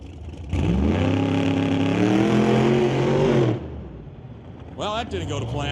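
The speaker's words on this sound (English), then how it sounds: "Car spun the wheels, wasn't having it." A Shelby pro modified nitrous drag car roars loudly for about three seconds at launch as its wheels spin, its rising engine howl cutting off abruptly, followed by a quieter pause and a voice.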